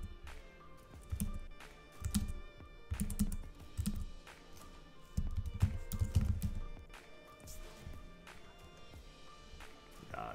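Rapid computer keyboard typing during a City of Doors game session, irregular bursts of close key clicks with short pauses, rising and falling in density across the stretch without talk.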